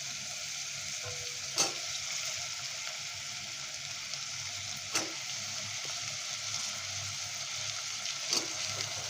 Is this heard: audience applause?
no